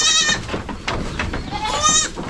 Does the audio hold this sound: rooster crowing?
no